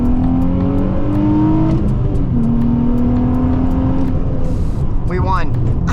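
A Nissan 350Z accelerates hard while racing another car at night, its engine note climbing steadily through the gears, loud and continuous from inside the car. A person talks over the engine.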